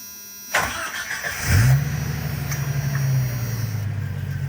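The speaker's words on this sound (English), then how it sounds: "It sounded like we had the 2 ooga-oogas, and it started right up." A Jeep Wrangler YJ fitted with new four-port fuel injectors turns over with a short crank, catches and starts, then settles into a steady, rumbling idle close by, with no voices.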